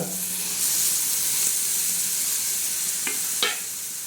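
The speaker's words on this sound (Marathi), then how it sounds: "ह्याचा उसळ सोडणार आहोत आणि चांगले असे आपण हलवून घेणार आहोत" A pan of usal, a sprouted bean curry, sizzles steadily over high heat with a loud, constant hiss, and two brief scraping strokes of a spoon stirring it near the end.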